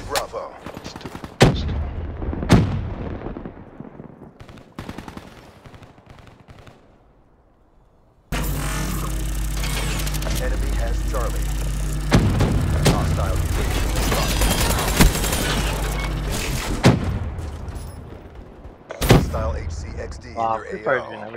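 Rapid automatic gunfire in a first-person shooter game, a dense sustained burst of loud shots running for several seconds with sharp individual cracks, preceded by scattered single shots and players talking over team voice chat.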